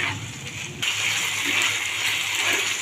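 A small glass of water is poured into boiling banana flower gravy. A sudden rushing gush starts about a second in and carries on as a close, steady splashing pour, with no talk.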